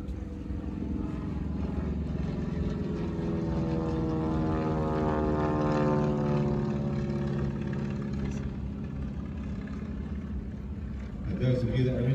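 The Navy Wings Stinson Reliant propeller aircraft sweeps past at an air show, its engine drone swelling and falling as it passes at a moderate distance, with a commentator's voice over it.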